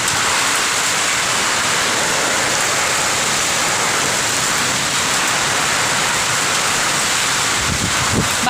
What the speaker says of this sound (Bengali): খুব বৃষ্টি হচ্ছে, খুব বৃষ্টি।